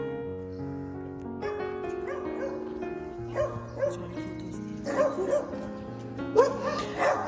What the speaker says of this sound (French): c'est le rendez-vous des chiens vénères